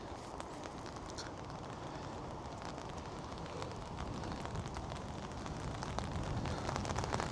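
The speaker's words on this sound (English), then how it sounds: "It's raining now quite heavy" Steady heavy rain with a constant broadband roar of wind, dense and unbroken throughout.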